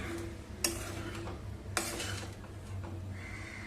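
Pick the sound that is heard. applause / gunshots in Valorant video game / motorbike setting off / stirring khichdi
stirring khichdi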